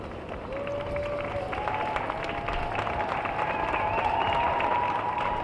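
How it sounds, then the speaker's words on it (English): A large outdoor crowd at a presidential inauguration claps steadily, a broad, moderately distant wash of applause that continues evenly, with some faint tones and murmuring voices underneath. "We can hear the applause."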